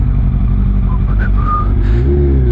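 A Kawasaki Ninja ZX12R motorcycle riding through city traffic, its engine a loud, steady close-up drone with wind rush, the pitch climbing briefly near the end.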